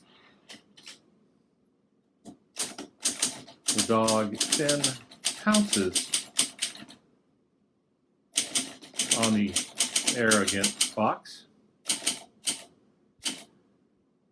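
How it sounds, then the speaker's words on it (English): Rapid clacking keystrokes from a 1963 Facit TP1 portable typewriter come in two dense bursts with brief pauses and sharp strikes in between, close and fairly loud, while someone speaks over the typing. "So there's a little typing sample."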